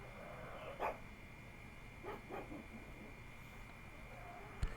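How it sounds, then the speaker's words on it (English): A small pug barks faintly in the distance, three or four short barks spread over a few seconds against a steady background hum. "My silly little pug barking."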